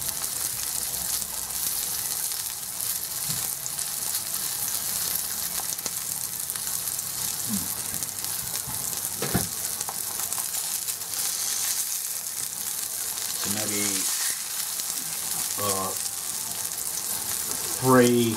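Sausage patties frying in a pan, a steady bright sizzle running throughout, close, with a few clinks and scrapes and short bursts of speech toward the end.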